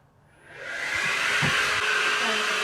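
Dirt Devil 3-in-1 Reach Max Plus cordless vacuum cleaner spinning up from quiet to a steady, loud whirring motor drone that holds for the rest of the moment.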